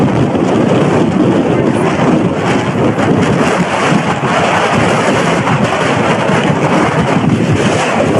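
Strong wind on an Alaskan island roars steadily into the microphone under an overcast sky, a loud, unbroken buffeting rumble with no pauses.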